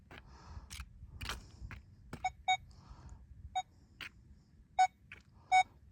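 A metal detector at an old homestead site beeps on a buried target, giving a handful of short, clear tones spaced irregularly among faint scraping and rustling from the search.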